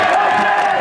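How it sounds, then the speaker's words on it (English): A crowd at a high school football event roaring with cheers and whoops, loud and sustained through the short burst. "You better give a bigger round of applause to these damn coaches"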